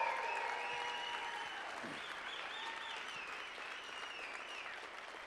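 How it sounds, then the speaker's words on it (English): A convention audience breaks into sustained applause, a dense wash of clapping that stays loud and even throughout, with a few faint cheers. "And the legendary Dr. Nagasawa, give him a tremendous round of applause."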